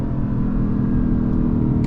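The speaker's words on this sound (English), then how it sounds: "Here's some downshifts for you." A Lexus LC 500 engine rumbles loudly and steadily at close range through downshifts, a deep continuous burble with no talking.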